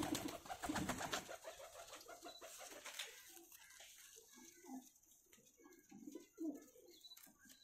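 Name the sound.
breeder pigeons cooing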